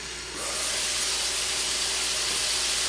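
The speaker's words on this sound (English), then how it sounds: "Isn't it marvelous what a little steam does?" Steam hisses loudly and steadily while a Juicy Lucy burger cooks, a broad continuous hiss that begins abruptly and holds, with a faint low hum beneath it.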